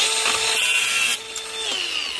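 A saw cuts the top tab off a brass hot water tank valve held in a vise, giving a close, loud, harsh metallic grind that drops in pitch and level partway through.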